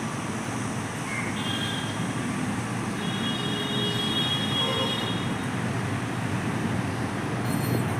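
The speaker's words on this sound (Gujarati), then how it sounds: "અહીંયા અમારી મેટ્રો ટ્રેન આવી ગઈ છે" A metro train arriving at a Mumbai station by day: a steady loud rumble of wheels on rails with faint squeals throughout, no talking.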